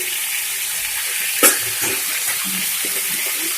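Ginger, garlic and ground cumin fry in a pan over a raised flame, making a steady, close sizzling hiss with one brief clink of a utensil partway through.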